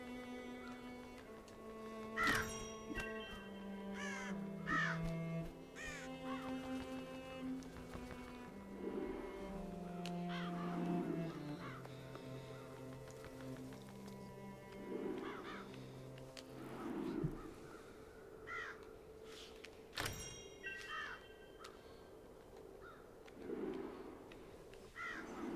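Harsh caws from a bird in the video game Child of Light, several calls spaced over gentle game music with no talking.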